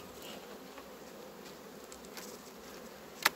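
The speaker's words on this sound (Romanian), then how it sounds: "Da, să vedem ce albine avem." A honeybee colony that survived the winter on a single frame gives a steady, faint, low buzz throughout, with a brief sharp click near the end and no voices.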